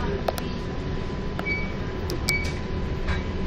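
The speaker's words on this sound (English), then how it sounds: "That's a train station." Busy train station ambience in Istanbul with a steady low rumble, a continuous hum, and a few faint chimes and clicks, no clear talk.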